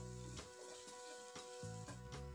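Ground coriander and chili powder sizzling in a pan while being stirred, a steady hiss with soft periodic scraping strokes and a faint electronic hum underneath.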